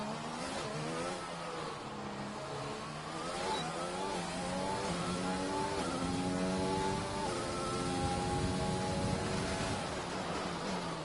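A Formula 1 car engine screams through a hot lap at Monaco in a racing game, its pitch climbing and dropping repeatedly through gear changes, loud and continuous with no talk.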